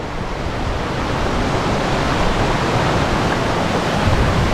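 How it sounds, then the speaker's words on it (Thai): Steady, broadband rushing water fills the whole clip, a constant roar from a nearby waterfall by Wastwater in the Lake District, England, with no voices over it. "นั่งริมน้ำตกกันนะ"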